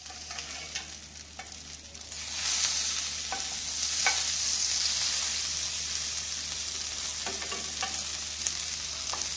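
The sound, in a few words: beef burger patties frying on low heat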